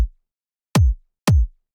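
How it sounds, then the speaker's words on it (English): Dry drum and bass kick drum with no processing, struck twice alone: each hit a sharp click dropping into a deep low thump with a short boomy tail, spaced about half a second apart. "So the kick without effect sounds like this."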